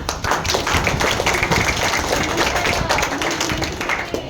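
Applause for a speaker at a library teacher's gathering, a loud, dense and steady patter of many hands clapping close by, sustained throughout with no speech.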